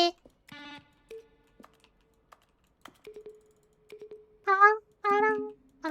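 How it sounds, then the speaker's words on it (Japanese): Button presses from The Stanley Parable video game, each one a short synth tone blended with a keyboard stroke. Several sound in irregular sequence: brief clicks and sustained tonal beeps, some longer and brighter near the end, with no talking. "このゲームを通じてボタンを押した時に使われたサウンドセレクションです。"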